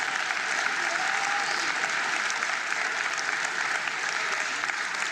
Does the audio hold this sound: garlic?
no